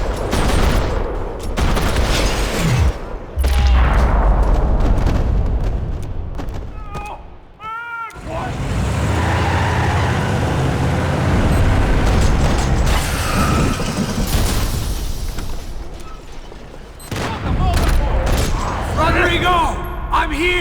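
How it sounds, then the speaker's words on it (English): Video game gunfire echoes through a parking lot in Max Payne 3, with dense rattling bursts and booms layered over mechanical clatter and game sounds, loud and sustained across most of the stretch. "Another parking lot rattling with gunfire."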